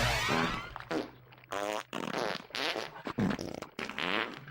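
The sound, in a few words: farts incorporated into music in a Simpsons song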